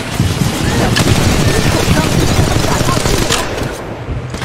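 Rapid, dense gunfire from Apex Legends Mobile, including VK-47 bursts, crackles continuously and loudly throughout the battle, with sharp overlapping shots and game effects layered beneath a player's voice.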